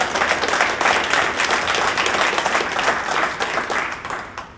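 Audience applause at a PowerShell summit session honoring the person who edited the recordings, a dense roomful of clapping that stays strong throughout, with no talking.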